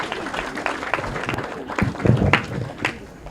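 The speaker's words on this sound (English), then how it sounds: "Let's give him a round of applause." Short round of applause from a crowd at a livestock open house boar parade, scattered hand claps of moderate loudness over a murmur of background voices.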